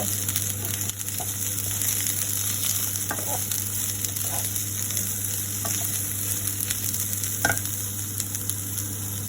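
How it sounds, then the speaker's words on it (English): Cauliflower florets frying in oil for a coconut milk vegetable rice, a steady dense sizzle with a low hum running throughout and occasional soft stirring clicks, close and continuous. "first we have to fry the cauliflower until it becomes very crisp"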